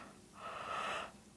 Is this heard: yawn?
yes